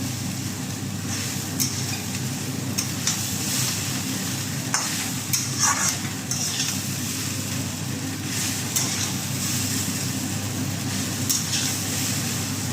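Chowmein stir-fried in a pan, a steady loud sizzle of frying noodles with scraping spatula strokes and occasional sharp clinks against the metal, continuous and close with no talk.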